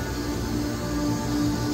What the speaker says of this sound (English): Got a chiller over there still running.